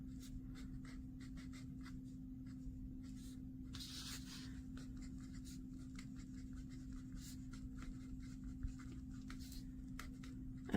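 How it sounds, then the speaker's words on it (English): Posca paint pens write out a small certificate, giving faint, close scratchy strokes and taps on paper in short irregular bursts over a steady background hum, with no talking. "You can write a little certificate out for Mom."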